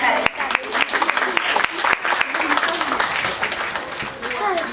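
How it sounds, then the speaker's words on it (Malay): An audience claps steadily for a secondary school's performance at a village event, a dense sustained roar of many hands with a few louder individual claps, with an announcer's voice and some chatter mixed in. "Berikan tepukan sekali lagi kepada Sekolah Menengah Cepuat di atas persembahan yang sangat memperkenalkan."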